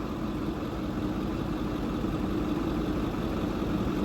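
A truck engine idles steadily at close range, a continuous low rumble with an even mid-range drone and no gaps, alone without talk.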